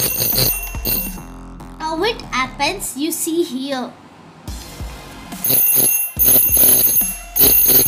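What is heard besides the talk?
bell ringing on a homemade earthquake alarm model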